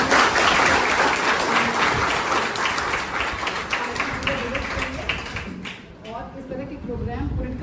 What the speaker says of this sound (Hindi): उनके लिए हम तालियां बजाना चाहेंगे